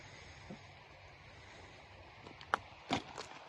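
Creek water flows steadily as a soft, continuous broadband wash, faint and outdoors, with a few brief louder knocks and rustles near the end.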